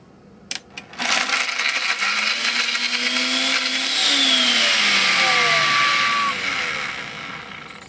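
Hamilton Beach blender starts with a couple of clicks, then motors up loudly blending whole oranges and ice into a smoothie, its whine rising and shifting pitch steadily before easing slightly toward the end.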